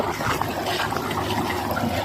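Water gushes up and churns in a tilapia fish pond, a steady close rushing and splashing wash without speech.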